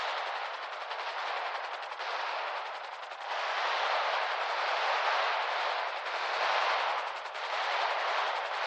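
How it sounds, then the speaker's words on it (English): Sustained gunfire from non-player characters on a video game roleplay server, a dense, continuous rattling hiss of rapid shots that swells and dips without pause, with no talk over it. "I can hear shooting."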